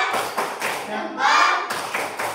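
Classroom of students performs a "tepuk salut" clapping routine, sharp grouped claps and thumps in rhythm alongside chanting voices, close and loud.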